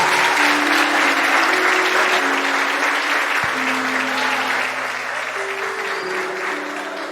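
Church congregation at a fiftieth-anniversary thanksgiving service in Guapimirim, Brazil, applauds in a dense, sustained wash of clapping that fades slightly toward the end, with a steady low tone and faint voices beneath.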